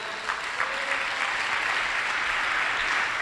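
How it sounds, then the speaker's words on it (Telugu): Audience at a Christian ministry sermon in Guntur clapping together, a dense, even burst of applause filling the whole moment, loud and sustained without talk. "కొట్టు చప్పట్లు ఒకసారి"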